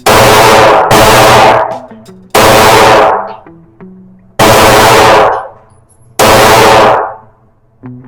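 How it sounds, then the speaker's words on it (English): Five loud, close gunshots from a SAR USA pistol, fired singly at uneven intervals. Each sharp crack rings out with a long decaying echo, and faint metallic clinks follow between shots. "So I'm shooting a SAR USA."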